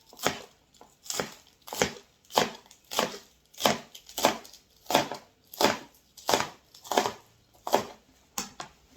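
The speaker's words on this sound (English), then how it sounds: "I need 4 cos lettuce leaves. And I'm going to slice it." Cos lettuce leaves are sliced with a knife on a board, making about a dozen crisp, evenly spaced cuts at a steady rhythm, close and moderately loud, with no talking.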